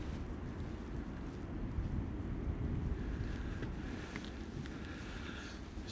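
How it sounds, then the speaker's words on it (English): Ocean surf and gusty wind at the North Jetty in Humboldt during a storm front blend into a steady, broad, low roar. Heavy wind buffets the microphone and the crash of surf sits underneath. "there's a little bit of surf going on out there."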